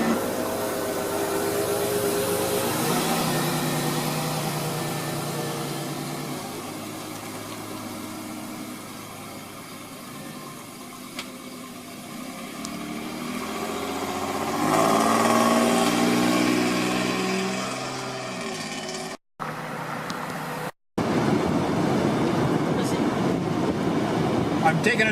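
A car with its top off rolls along on a test drive after rust and cracked-body repairs, a steady low engine and road rumble with wind wash running throughout, swelling louder near the middle and end, with two brief dropouts.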